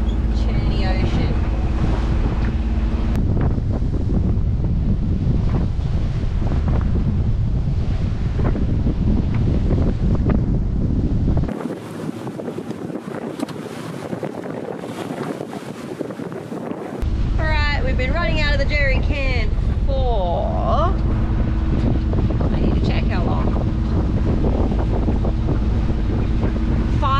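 Boat powered by a Yanmar 3YM30 diesel pushing through choppy ocean swell, with steady engine drone, water rush and heavy wind buffeting the microphone, dropping briefly quieter midway before returning; a voice is faintly present.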